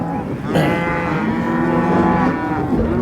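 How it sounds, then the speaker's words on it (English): Cattle bawl from inside a livestock trailer on a ranch, mother cows calling for their calves in long, loud, overlapping moos close by, with no talk. "They're bawling, that's called mothering."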